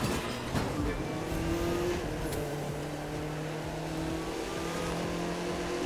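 A Ferrari 458 Italia in the racing game The Crew 2 drones with a steady, high engine note at speed, with a sustained, slightly shifting pitch over a constant rush of road noise.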